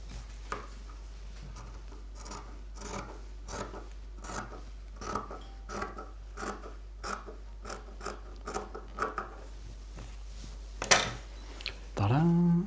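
Scissors cut away excess fabric from a crazy quilt patchwork square, making a steady series of close crunchy snips over about ten seconds, followed by a short louder burst at the end.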